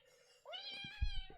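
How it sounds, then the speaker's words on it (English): A kitten meows once, a rising-then-falling cry that is fairly close and clear, followed by a short thump and a softer second call in an otherwise quiet room. "Some kitten difficulties."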